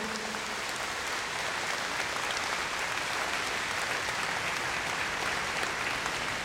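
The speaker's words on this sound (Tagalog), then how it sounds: "isang masigabong palakpak ang hinihiling ko sa inyong lahat" Sustained applause from a large crowd at a governor's burial ceremony in a convention center, a dense, even roar of clapping that holds steady throughout without pause.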